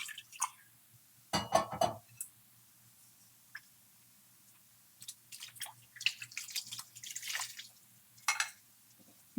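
Water splashes and trickles into a pot of potato curry in short, irregular bursts separated by quiet moments, close by.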